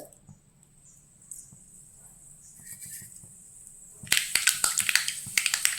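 Mustard seeds in hot ghee for tempering: a faint sizzle gives way to a burst of sharp, irregular crackles and pops, close by, over the final two seconds.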